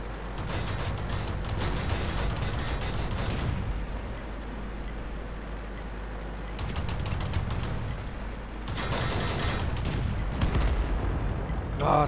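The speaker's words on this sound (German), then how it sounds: "Oh, zweimal geschossen, zweimal daneben." In World of Tanks, loud booming gunfire comes in two long sustained bursts separated by a quieter stretch, with rumbling explosive tails under faint background talk.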